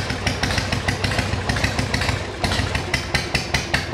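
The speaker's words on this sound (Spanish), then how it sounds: "Aquí le pide acelerar, empieza a subir las revoluciones" Harley-Davidson motorcycle engine with a CV carburetor being adjusted, running loud and close with a rough, steady throb and rapid pulsing firing beats as the revs rise slightly, with no voices over it.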